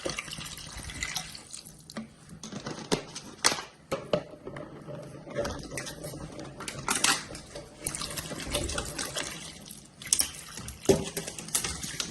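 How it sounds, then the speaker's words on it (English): Water pours over sea moss in a bowl to soak it, making a running, splashing trickle with scattered drips and clinks, fairly close and without speech. "I just want the water to kind of cover it"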